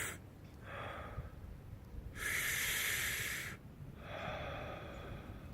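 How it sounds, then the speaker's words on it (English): Breathing during a kneeling tabletop wrist mobility exercise: a long, loud hissing inhale is framed by softer airy breaths before and after, close to the mic, with no talking. "And same thing, just big inhale."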